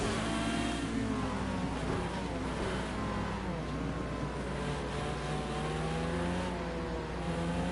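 Car engine in the racing game Project CARS 2, played with a controller, droning and revving steadily throughout as the car slides sideways, with continuous engine tone and no speech.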